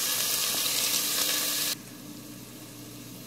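Onions sizzle in hot fat in a soup pot for Greek lentil soup, with a loud, dense hiss for the first couple of seconds that then drops to a softer, steady sizzle.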